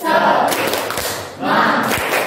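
Schoolchildren in a classroom perform a rhythmic group clapping chant, bursts of sharp claps and thumps in a patterned beat with voices briefly joining in.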